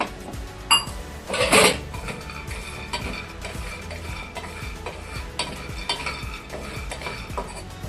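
Scraping and rattling of a utensil stirring dry food in a pan, steady and close, with a couple of louder clattering bursts early on.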